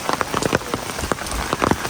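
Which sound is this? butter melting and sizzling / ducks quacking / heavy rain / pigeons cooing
heavy rain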